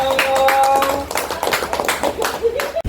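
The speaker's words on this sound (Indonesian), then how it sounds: "Oke, tepuk tangan dong." A group of adults in a school canteen lesson claps hands in a dense burst of sharp, irregular claps lasting a few seconds, with voices mixed in before it cuts off.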